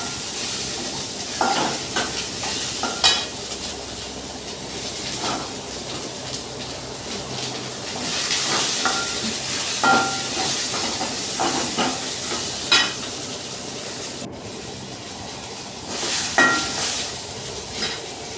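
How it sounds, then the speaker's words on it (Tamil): Tomatoes sautéed in a pan for mutton curry: steady sizzle and hiss with repeated scraping stirs throughout, fairly close and loud. "தக்காளி பழத்தையும் போட்டு நல்லா வதக்கிக்கோங்க நல்லா வதங்கி வருது பாருங்கள்"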